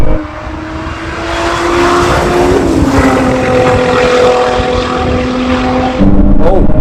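Supercharged race cars in a drag race roar loudly and continuously, their engine pitch climbing through rising gear sweeps and dropping at each shift, with brief shouts over the din.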